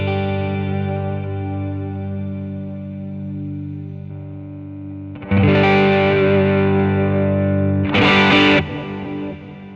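An electric guitar through a BOSS GT-1000 Core clean ambient patch rings out in sustained chords with a long delay and reverb wash, and two brighter strummed chords swell in near the end, close and unaccompanied.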